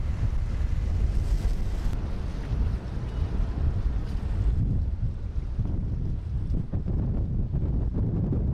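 Strong wind buffets the microphone over the Bosporus Strait, where ship traffic passes between the Marmara Sea and the Black Sea, a loud rumbling wash that eases after a few seconds.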